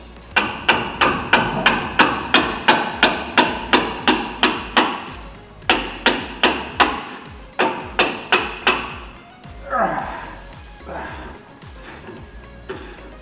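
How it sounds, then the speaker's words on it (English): Rapid series of loud metallic hammer blows in quick bursts, striking seized brake bolts on a 2014 Ram EcoDiesel to break them loose, with a pause between volleys, then some rustling and scraping toward the end. "This is where the hammer comes in at."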